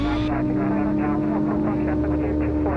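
A light aircraft engine drones steadily at full power during takeoff stall practice, a constant loud propeller hum heard from the cabin with people talking over it.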